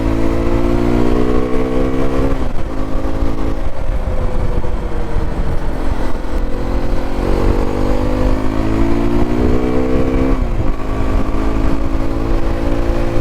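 A Hero Xpulse 210 motorcycle on a trail holds a loud, close engine drone, revving up through rising pitch several times with brief dips between gear changes, and no voices.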